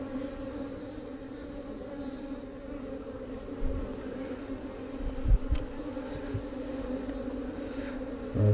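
Honeybees being shaken off a hive frame make a dense, continuous buzzing drone that stays steady throughout, with a few soft thumps and knocks mixed in and no talking.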